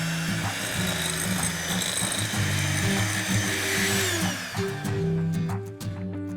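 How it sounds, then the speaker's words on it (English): An electric whisk or blender churning paneer with sugar and cream for a Sandesh pudding, a loud steady motor whir right up close that changes pitch near the end before cutting out, with no speech. "To this paneer, we're going to be adding sugar and cream. And now a good whisking."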